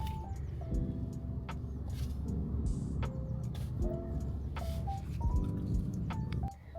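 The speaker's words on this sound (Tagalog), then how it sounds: "Traffic." Road traffic passing by, a steady wash of car and engine noise with repeated short horn-like beeps and tonal chirps rising over the constant rumble.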